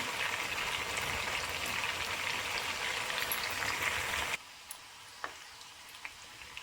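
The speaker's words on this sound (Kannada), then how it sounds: "ಆಲ್ರೆಡಿ ಚೆನ್ನಾಗಿ ಫ್ರೈ ಆಗ್ತಾ ಇದೆ." Chicken chutney powder ingredients fry steadily in a pan, a dense close sizzle for about four seconds that then drops to a faint crackle with a few scattered pops.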